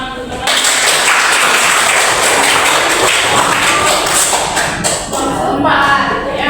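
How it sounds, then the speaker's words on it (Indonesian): Students in a classroom applaud a classmate, with loud, close, scattered claps mixed with thumps and shuffling that carry on for several seconds. "Beri tepuk tangan untuk teman."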